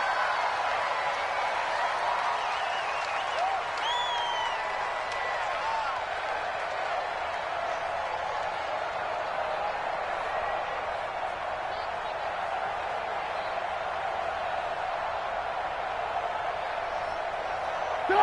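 A stadium crowd roars steadily throughout a football video game, a dense, unbroken wall of cheering noise that holds at an even level from start to finish.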